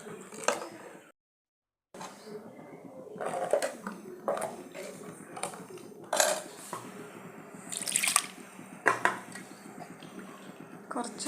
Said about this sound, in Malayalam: കുറച്ച് വെള്ളം കൂടി ചേർക്കാം നമുക്ക്.